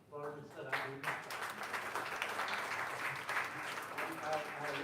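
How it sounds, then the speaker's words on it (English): Audience applause at a live Mumbai event for Lilavati Hospital and a spina bifida foundation, steady crowd clapping sustained for several seconds after an announcer's call, with an announcer's voice over the opening. "So big applause for Mr. Rajiv Mehta."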